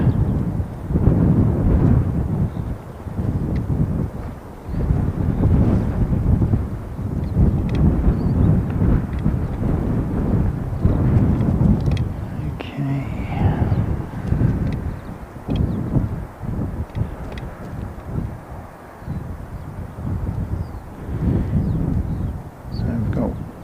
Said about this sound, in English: Jetstar 287 coming in from Wellington.